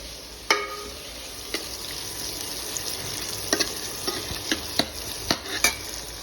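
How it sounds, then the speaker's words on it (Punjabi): Cumin seeds and onions sizzle steadily in hot oil in a pan, with a spoon scraping and stirring at irregular intervals through the continuous frying hiss, close and fairly loud, no talk. "ਆਪਾਂ ਪਿਆਜ਼ ਪਾ ਦਾਂਗੇ ਤੇ ਇਹਨਾਂ ਨੂੰ ਚੰਗੀ ਤਰ੍ਹਾਂ ਫਰਾਈ ਕਰ ਲਾਂਗੇ"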